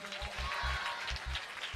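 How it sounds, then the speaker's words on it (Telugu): A church congregation claps hands together in worship, a short burst of rhythmic clapping with steady, evenly spaced beats under a faint wash of room sound. "రెండు చేతులు పైకెత్తి బిగ్గరగా చప్పట్లు కొడుతూ యేసయ్యా వందనాలు అని చెప్పండి."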